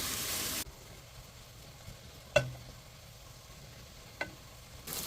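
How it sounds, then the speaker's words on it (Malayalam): Onions with a bay leaf and salt sauté in a pan, a faint steady sizzle with a couple of sharp clicks of a utensil against the metal. "പാൻ വെച്ച് ഒരു ബേ ലീഫും ഉള്ളിയും ഉപ്പും കൂടി ഇട്ട് വഴറ്റി"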